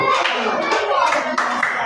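A sixth-grade class claps together after a lesson on artificial intelligence, a dense, steady patter of hands lasting under two seconds, with a voice faintly mixed in.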